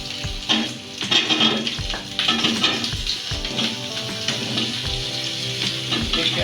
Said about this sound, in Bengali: হালকা পেঁপে আলু পেঁয়াজ দিয়ে একটু হালকা ভেজে নিচ্ছি।